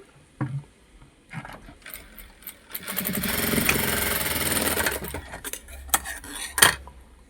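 A sewing machine stitches a blouse with a loud, close mechanical whirr that runs for about two seconds, framed by sharp clicks and knocks of fabric and parts being handled, with no speech.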